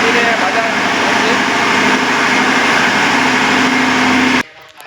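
Engine of a puffed rice (muri) frying machine runs as a loud, steady, close drone that holds level throughout, then cuts off abruptly just before the end.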